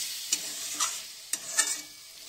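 Garlic and broad bean curry being stirred in a pan, with a few distinct spoon scrapes over a soft steady sizzle, close and fairly quiet, no voices.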